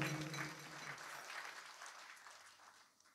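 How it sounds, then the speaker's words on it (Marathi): Audience applause at a kirtan during a Harinam Saptah gathering in Malegaon, loud and dense at first, then thinning and fading over a few seconds. "या सर्वांकरता एकदा जोरदार टाळ्या वाजवा"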